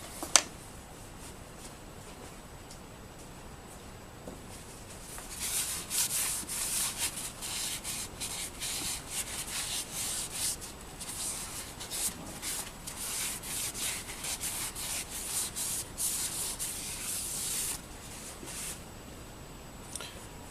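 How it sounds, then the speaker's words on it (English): Hand scraping of a machined metal surface on a milling head, a quiet start followed by rapid rasping strokes that run steadily for about twelve seconds and then fade, no voices. "Maybe if we're lucky we'll get to scrape this surface."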